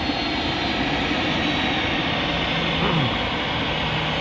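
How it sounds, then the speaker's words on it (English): Ryanair Boeing 737 jet departing Manchester Airport close by, a loud, dense engine roar holding steady throughout with a faint rising whine near the end. "another Ryanair 737."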